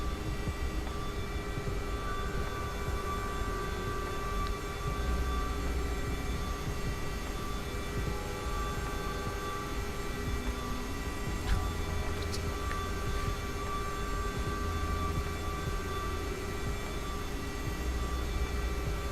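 A CRJ jet taxis on the ground, its engines producing a steady, moderate whine and rumble with a faint high tonal hum, continuous and unchanging throughout.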